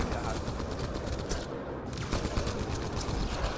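In the sci-fi shooter Mass Effect Andromeda, rapid blasts of weapon fire repeat in a dense, continuous barrage, loud and close, with battle noise filling the whole stretch.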